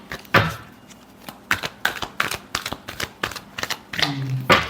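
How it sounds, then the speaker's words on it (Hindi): Tarot cards are shuffled by hand in a series of quick, crisp flicking bursts, uneven in rhythm and close up, with a short low tone near the end. "last shuffle"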